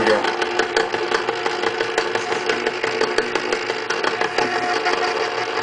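A dirt-caked rock tumbler in need of lubrication runs with a steady, close mechanical whir and faint rhythmic knocking, continuous throughout with no talking.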